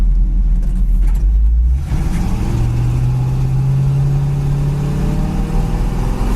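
A 1955 Chevy pickup truck engine accelerates, a low rumble rising steadily in pitch after a brief lull, close and loud with no talk over it.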